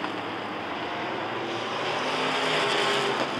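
Asphalt, dirt and figure-eight race cars battle for the lead at Rockford Speedway in a B.B.N. AA bracket feature, their engines making a steady, loud, continuous roar that swells slightly toward the end.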